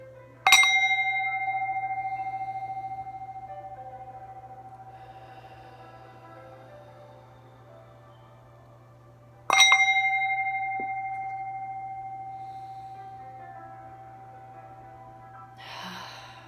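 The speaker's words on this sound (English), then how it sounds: "I'm going to use the Tibetan singing bowl. I'm going to ring it twice" Tibetan singing bowl struck twice, each strike ringing out in a clear bright tone that slowly fades, well spaced and alone over a faint low hum.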